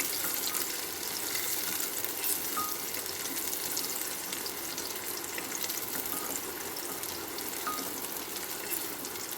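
Whole cardamom pods and cinnamon sticks frying in hot oil, a steady close sizzle with fine crackle running unbroken throughout, no voices.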